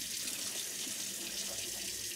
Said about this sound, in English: So I'm going to add in 8 cups of water.